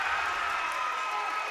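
A crowd cheers and roars steadily at a high school varsity boys basketball game in a gym, a dense sustained wash of voices that holds at an even level throughout.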